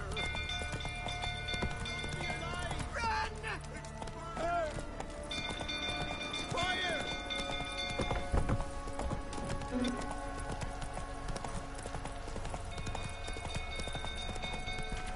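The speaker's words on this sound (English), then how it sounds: "Whoa there, Roach." A horse in The Witcher 3 gallops with rapid, steady hoofbeats under game music and ambience. Voices talk over the hooves now and then.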